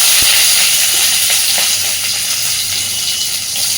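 Onions cut into thick chunks frying in hot oil for a Bengali fish-oil chorchori, giving a loud, steady close-up sizzle and hiss with a faint stirring scrape, no talking.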